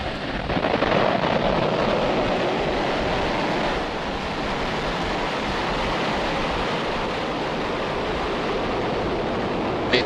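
A rocket launch after ignition and liftoff gives a broad, steady roar like rushing surf, loud and continuous throughout with no voices.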